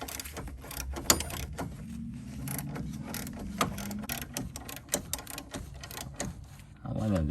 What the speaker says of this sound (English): here we're gonna use a ratchet right here